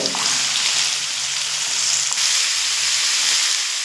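Cut potatoes tipped into hot oil over fried tempering spices, cooking for aloo posto, give off a loud, steady sizzle that holds unbroken throughout, with no voices.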